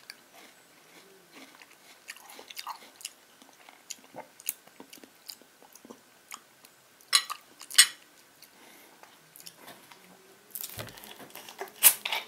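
Someone bites and chews a chunk of pineapple with a firm, cucumber-like texture, giving soft wet crunches and squishy mouth sounds in irregular bursts, with light cutlery clinks close by and no talk.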